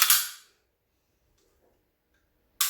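A sharp metallic snap of a pistol during dry fire practice, one loud close click at the start and another at the end, with near silence between.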